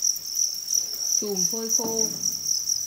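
Crickets chirp inside a breeding box lined with egg-carton trays, a steady high insect trill running throughout while a voice speaks briefly underneath.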